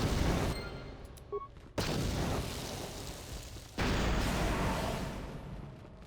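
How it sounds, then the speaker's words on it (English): Explosions in Star Wars: KOTOR, a heavy roaring blast with crackling debris that drops off abruptly, then a second booming rumble swells and slowly fades. "Is that explosion gonna catch up with me?"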